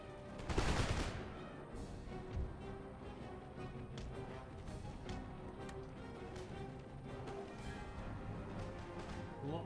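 Faint massed musket and cannon fire in an Empire: Total War battle, a heavier burst near the start, then scattered crackling shots over a constant distant rumble of combat.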